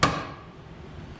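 A single sharp smack drives a steering linkage bolt back through a vehicle frame during a 289 engine conversion: one close, crisp hit that quickly fades.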